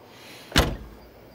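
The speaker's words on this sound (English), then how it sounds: "Don't you just love those old Camaro doors? They all do that." An old Camaro's car door shuts with a single sharp, heavy thud up close, followed by a brief rattling decay and then quiet.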